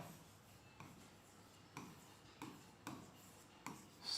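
Pen writing a sentence by hand on paper, quiet scratchy strokes broken by a handful of distinct taps as each word begins, faint and close with no voice.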